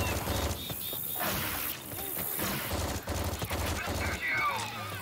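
Bursts of gunfire in Left 4 Dead, rapid scattered shots mixed with clanking game sounds, with voices talking over the action.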